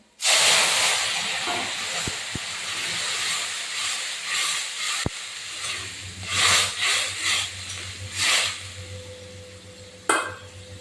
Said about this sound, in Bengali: এবার তরকারি ঢেলেছি, দেখুন